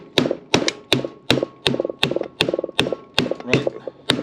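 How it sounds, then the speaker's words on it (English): A hammer taps a companion flange down onto a Toyota Celica rear differential during a Cusco limited-slip install, about a dozen sharp metallic knocks, some doubled, struck at a steady rhythm close by with no talk. "I just take this hammer"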